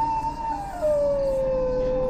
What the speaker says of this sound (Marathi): कुत्री मोठ्याने रडत होती.